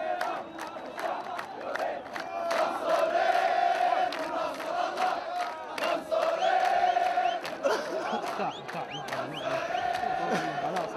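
A crowd of protesters at the Pearl Roundabout in Bahrain celebrates with rhythmic chanting and cheering, loud and sustained, rising and falling in waves with shouts over the mass of voices.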